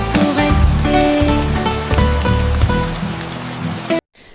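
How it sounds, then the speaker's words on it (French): Rain falling in a steady wash of drops, set under a children's song with its melody and instruments running over it throughout before cutting off abruptly near the end. "Les gouttes de pluie tombent, dansent et jouent."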